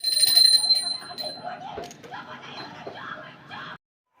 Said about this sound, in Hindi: हस्बैंड ने घंटी बजा रखी थी, तो मैं आपको सुना रही थी